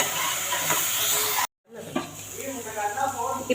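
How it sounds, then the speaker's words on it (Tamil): Ground onion paste sautéing in a pan for a hotel-style white kurma, a steady close sizzle and stirring scrape, briefly cut to silence midway before the frying resumes with soft spoon scrapes. "இப்போ வெங்காயம் நல்லா பச்சை வாடை போகிற அளவுக்கு நல்லா வதங்கிருச்சு"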